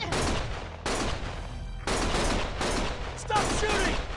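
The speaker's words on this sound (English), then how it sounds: "Stop shooting!" Bursts of gunfire fill a scene in the video game Lost Judgment, with dense volleys in several loud clusters separated by brief lulls, mixed with faint voices.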